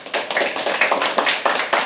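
An audience claps for the next performer at a live poetry open mic, a close, steady patter of many hands with rhythmic bursts, heard alone without talk.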